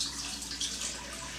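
Liquid being poured into a cooking pot while making broth gives a soft, continuous splashing hiss, quiet and steady throughout the brief moment.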